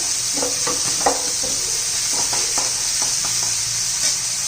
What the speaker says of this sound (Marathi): जिरं घालूया